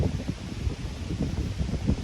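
Strong headwind gusting across an open disc golf course, a steady low rumble of wind buffeting the microphone with rustling surges, no voices.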